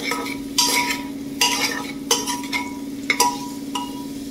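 Onions fry in a pan for veg biryani, a soft steady sizzle broken by several sharp scrapes and clinks of a spoon stirring against the metal.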